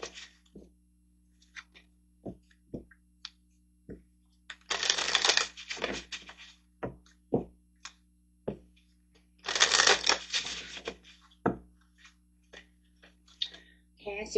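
Portal oracle cards being shuffled by hand in two riffling bursts, crisp papery flutters with scattered taps and clicks between them, close and fairly quiet.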